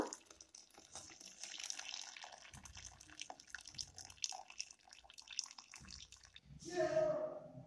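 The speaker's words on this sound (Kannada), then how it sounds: "ಈ ಥರ ನೀರನ್ನೆಲ್ಲ ಬಸ್ಕೊಂಡ್ಬಿಡ್ಬೇಕು ಸ್ವಲ್ಪನೂ ನೀರು ಇರಬಾರ್ದು" Cooking water drains off boiled toor dal in a steady, splashy stream that runs for several seconds and then stops, with some talk heard over it.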